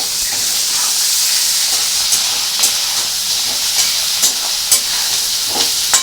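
Potato and paneer curry sizzles loudly in a pan while being stirred, with a constant bright frying hiss and soft periodic scrapes of a spoon through the mixture, no voices.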